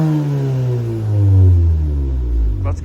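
An Audi S3 engine with its stock exhaust revs up and down nearby, a low droning exhaust note rising and falling, with a brief clatter near the end.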